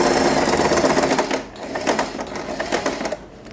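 A sewing machine stitches all around a piece of fabric for a bow with tails, running in a steady whirring stream that pauses briefly, then resumes with close, clattering needle strokes.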